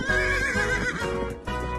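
A horse sound effect gives a loud, close whinny, with clip-clop hoofbeats joining near the end.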